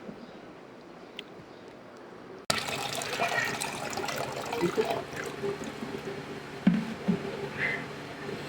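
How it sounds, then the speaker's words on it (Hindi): About two litres of water pour into a cooking pot, a steady gushing splash that begins abruptly and runs for several seconds, fairly close. "इसके अंदर मैं 2 लीटर पानी शामिल कर रही हूँ"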